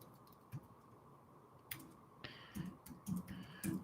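Quiet, sparse keyboard typing at a home desk, with scattered soft clicks that grow busier toward the end over a faint background hiss.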